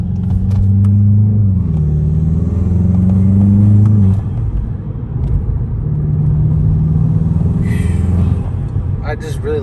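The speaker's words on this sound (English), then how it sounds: "The intake sound is just glorious." A 2021 Volkswagen Jetta GLI's engine intake roars and drones under acceleration, loud and close from inside the cabin, rising and falling through gear changes, with voices talking over it.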